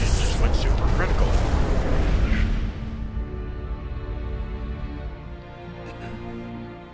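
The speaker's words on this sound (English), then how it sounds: "That looks like a plasma explosion to me." A plasma reactor explosion in the video game Red Faction Guerrilla, a loud roaring blast that rumbles for a few seconds and then decays into a long, lower ringing tail.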